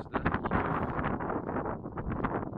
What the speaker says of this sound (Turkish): güzel esiyor bir rüzgar var